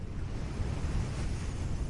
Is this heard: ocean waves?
yes